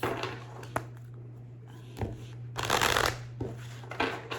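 A Wisdom of Trees oracle card deck is shuffled in several quick, crisp riffling bursts with short pauses between them, close by and alone over a faint steady low hum.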